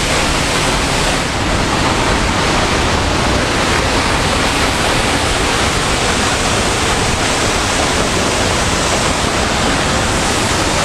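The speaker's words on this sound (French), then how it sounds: "j'avais envie de partager avec toi ce moment avec la cascade là" A waterfall roars nearby, a dense, loud, unbroken rush of water with no voices over it.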